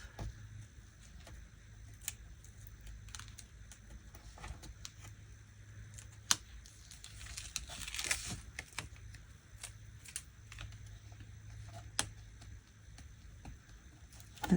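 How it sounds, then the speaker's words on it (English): A small pick lifts paper off tape on a handmade Christmas card, giving faint, close scratching and soft ticking taps scattered through otherwise quiet room tone. "I use my little pick here to pick the paper off."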